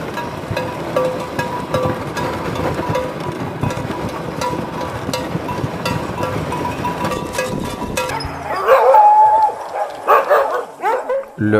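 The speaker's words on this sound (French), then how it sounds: "Le husky est un chien de travail souvent utilisé comme chien de course de traîneau par des mushers." Husky sled dogs north of the Arctic Circle bark and yip in a dense, busy chorus, then thin out to scattered, closer calls with quieter gaps near the end.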